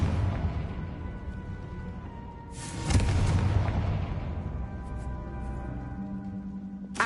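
A Confringo blasting spell explodes in the Hogwarts Legacy video game, a sudden deep boom that swells and rumbles for a second or two amid a dense, continuous game soundscape.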